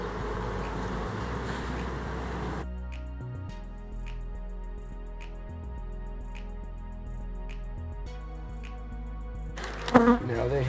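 Bees inside a Tardis-style hive box give a steady low insect drone, fairly quiet and continuous, with a louder burst of movement near the end.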